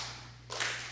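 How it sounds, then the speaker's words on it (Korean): A single sharp hand clap rings out partway through, loud and close against a steady low hum from a church sermon setting. "자, 손 이렇게 박수 이렇게 보세요."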